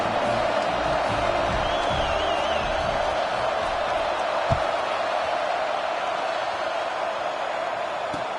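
A stadium crowd in the College Football 26 video game during a Penn State vs Nebraska matchup holds a steady, dense background roar with a faint whistle-like tone and one brief thump.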